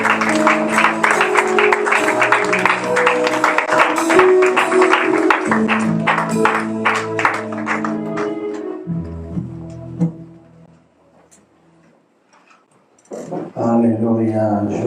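A congregation applauds during a Sunday church service, with rhythmic clapping mixed with loud voices for several seconds before dying away into near silence, followed by someone speaking.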